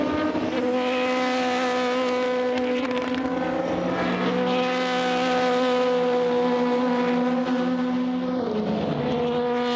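Race cars on track at the 24 Hours of Le Mans, including an Aston Martin, with several high engine tones that hold steady and shift in pitch as cars pass, loud and continuous.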